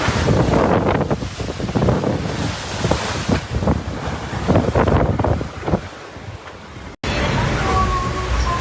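Wind roaring over a racing sailboat far out at sea south of Australia, blowing around 16 knots in sunshine; loud, constant buffeting gusts and wind noise on the microphone, with surging water mixed in and a brief cut near the end.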